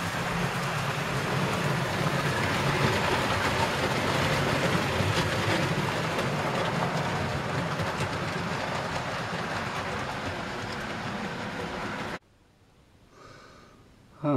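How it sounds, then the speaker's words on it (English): A model oil train rumbles and clatters along its track on a loft model railway, continuously and close by, then the noise cuts off abruptly near the end. "we've got the oil train."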